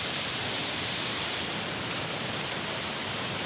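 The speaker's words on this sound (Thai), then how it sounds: "นี่ครับเราจะพาไปดูความสวยงามของน้ำตกสาลิกาครับ" Sarika Waterfall in Nakhon Nayok, Thailand, pours in a loud, unbroken rushing roar that fills the scene close by, with no voices over it.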